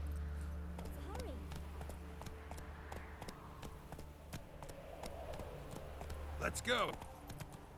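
Hooves of Roach, the horse in The Witcher 3, clip-clopping at a quick, uneven pace close by, while someone speaks briefly over a low rumbling backdrop.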